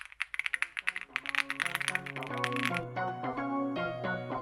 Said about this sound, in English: First type of the keyboard here.